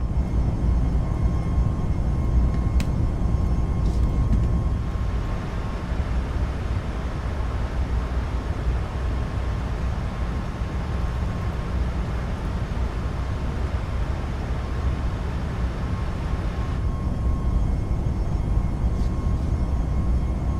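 Southwest airliner taxiing in a flight simulator game: a steady, loud broadband engine rumble holds throughout with a constant hum and no voices.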